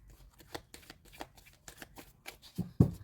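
Tarot cards are shuffled by hand in a series of quick riffles and soft flicks, ending in a couple of sharper slaps as the deck is squared; close and fairly quiet, no talking.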